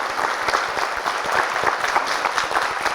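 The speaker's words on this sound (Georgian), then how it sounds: "მოდით კიდევ ერთხელ თელ გუნდას აპლოდისმენტებით" Sustained applause from an audience at a school quiz competition final, dense and even clapping that stays loud for the whole stretch with no voices over it.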